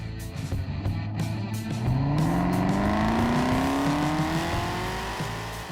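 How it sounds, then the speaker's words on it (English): A 2017 Chevrolet Camaro ZL1, a supercharged 650-horsepower car, accelerating hard, with engine tone climbing steadily as it pulls through the rev range and a whine rising over the loud, close exhaust roar. "you can probably hear the supercharger whine"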